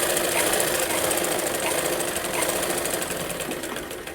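A sewing machine runs steadily, stitching a half-inch seam on a blouse lining, with a continuous dense mechanical whir and rapid needle chatter at an even level for the whole stretch, no talking.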